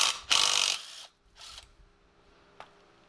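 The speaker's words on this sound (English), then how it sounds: "So I'm just going to remove the sway bar end links and then compare the weight difference." A ratchet working loose the sway bar end links on a Nissan 350Z, two short bursts of close ratcheting clicks followed by a quieter one and a single sharp click, with silences between.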